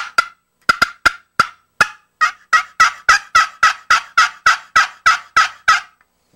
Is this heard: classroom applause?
no